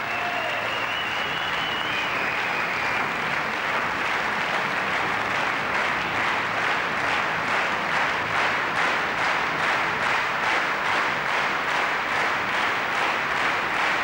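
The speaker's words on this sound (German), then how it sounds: "den Franzosen durch rhythmisches Klatschen zu unterstützen" Spectators clap in steady unison at the 1992 IFSC European Climbing Championship men's difficulty event in Frankfurt, a dense crowd sound whose rhythmic beat grows more pronounced and continues evenly throughout.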